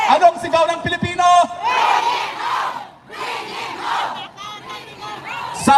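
A crowd at a gathering in The Hague, Netherlands roars a chant back in response, loud massed voices rising in surges with short pauses between the shouted phrases.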